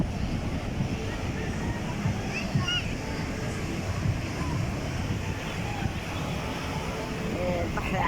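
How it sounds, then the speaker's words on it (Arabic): Rough, high sea surf rolls in at a beach in Alexandria as winter approaches, a steady broad wash of breaking waves with wind buffeting the microphone, while people talk nearby. "البحر عالي، ما هو داخلين على الشتاء بقى"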